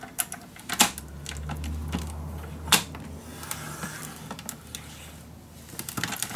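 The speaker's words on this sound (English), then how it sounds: "I need to cut this one open." Paper sheet for a shabby chic mini album being cut open: sharp crisp snips and creaky rustling handling noises, close and loud, no voices.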